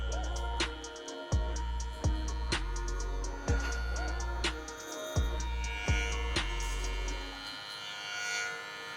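Hair clippers fitted with a number 1 guard hum steadily and close during fade blending on a high taper fade, with repeated strokes against the hair and small clicks. The hum cuts out near the end.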